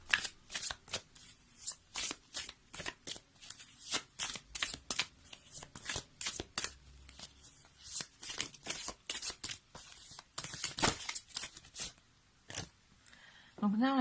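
Tarot cards being shuffled and turned over, a long series of quick crisp riffling and flicking bursts at close range, quiet overall, with a voice speaking between some of the shuffles.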